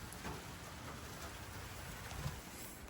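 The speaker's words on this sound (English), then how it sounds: "It's dark and rainy." Steady rain falls outside in the dark, a soft continuous hiss of drops on surfaces with a few louder patters, heard alone with no talking.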